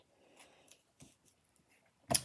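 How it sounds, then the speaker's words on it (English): Scissors make a few quiet snips and light rustles while cutting foam tape for a card, ending in a sharp, louder cut close by, with no talking. "Scissors."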